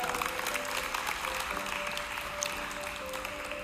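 An audience at a talk gives a soft, steady round of applause for a few seconds, faint and spread out like a room heard from a distance.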